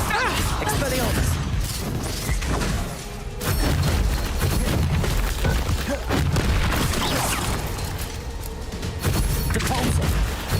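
Continuous combat in Hogwarts Legacy with an Expelliarmus spell cast amid booms, crashes and sharp impacts, a loud, dense clatter of magical blasts that barely lets up, with shouting in the mix.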